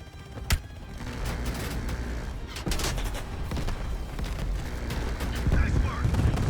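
Gunfire in Call of Duty Black Ops Cold War during a rooftop chase: one sharp early shot, then a dense mix of shots and booms through the clip, with someone talking over it.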